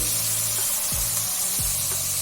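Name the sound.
sautéing garlic, green chilli, ginger and curry leaves in a pan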